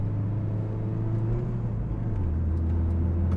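Subaru WRX STI boxer engine driving in second gear, a steady low rumbling exhaust note with a throbbing, vibrating character that stays loud and close throughout, pitch shifting slightly as the engine changes speed.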